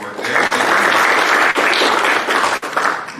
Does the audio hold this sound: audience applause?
yes